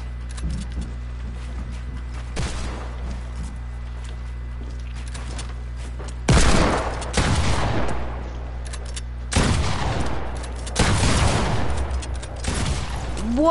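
Pump shotgun fire in a 1v1 video game match: a few sharp, loud blasts spaced seconds apart, each with a short roaring tail, over a steady low hum of game ambience.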